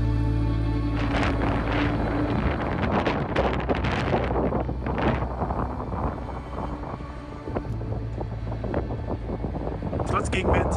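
Strong headwind roars and buffets across the microphone while a road cyclist rides toward the Rhine, a constant heavy rushing with gusty surges, and a voice talks under it.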